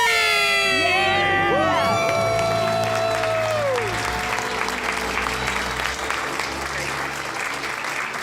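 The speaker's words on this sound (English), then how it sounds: "Let's hear a debt-free scream." A loud live-event crowd erupts in screams and cheers for paying off debt, with whoops and applause swelling at the start and a steady roar of clapping and shouting continuing throughout.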